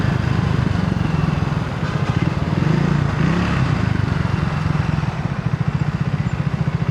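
Steady, even running of a Triumph 400cc motorcycle engine at a demo day, a low, smooth, fast pulsing throb held close and fairly loud throughout, with no voices.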